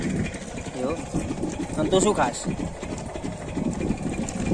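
A motorbike engine idles with a steady, buzzing hum at a village farm while people talk over it close by.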